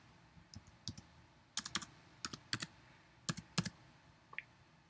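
Keys tapped on a computer keyboard while working in Photoshop Elements, a series of crisp, close clicks in short irregular bursts with pauses between, alone and without talk.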